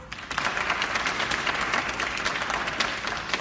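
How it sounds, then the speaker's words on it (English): Audience applause for student election candidates after an AS Elections debate, brisk dense clapping that starts after a brief pause and stays steady and close. "let's give them both slates a round of applause"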